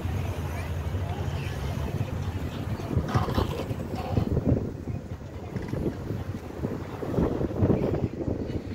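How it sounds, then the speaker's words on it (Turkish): Wind gusts across the seaside, rumbling and buffeting the microphone in uneven surges, with people talking nearby. "Oh, mis gibi esiyor burası ya."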